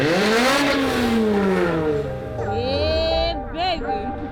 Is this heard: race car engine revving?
yes